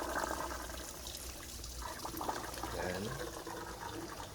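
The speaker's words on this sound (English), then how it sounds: "so as we can see the water flow inside" Water trickling and gurgling through a tiered DIY hydroponic system, a quiet, continuous flow with small splashes, under faint background noise and a brief spoken word.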